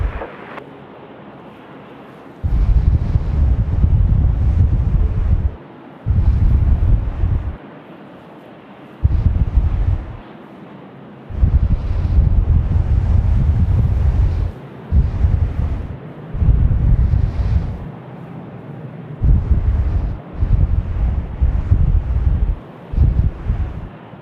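Strong gusty wind at Sydney Airport near runway 25 buffets the microphone in loud low rumbling bursts, rising and dropping repeatedly with brief lulls between gusts.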